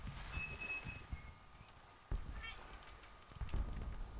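A cat gives a short, faint meow over low background rumble and scattered thumps at close range.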